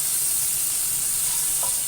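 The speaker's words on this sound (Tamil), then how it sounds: "சுண்டைக்காய் நல்லா ரோஸ்ட் ஆனோடனே ஒரே ஒரு தக்காளி சின்னதாக அரிஞ்சு வச்சுட்டு அதை போட்டுட்டு கொஞ்சோண்டு சால்ட் போட்டு நல்லா வதக்கிடுங்க." Tomato and turkey berries sizzle steadily as they are sautéed with salt in a pan, a continuous close frying hiss with a faint stirring clink near the end, no talking.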